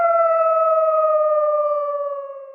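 A person imitates a bloodhound's howl: one long, sustained, tonal wail held steady for a couple of seconds and gliding slightly downward as it fades at the end, with no other sound around it.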